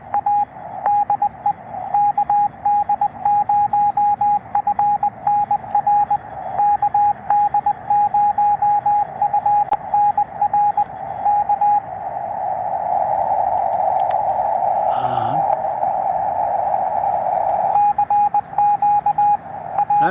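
Ham radio Morse code signal, a steady on-off tone keying rapid dots and dashes over a constant hiss of receiver static, with the tone briefly swelling into broader noise midway.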